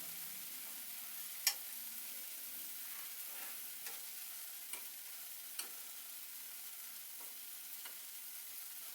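Jalebi batter frying in hot oil gives a faint, steady sizzle, broken by a few soft clicks and light scraping taps as it is stirred.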